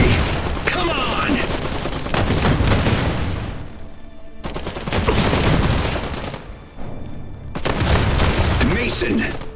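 Heavy gunfire and explosions in Iron Harvest rattle in dense, loud bursts with brief gaps between them, as shouted voices come through the battle.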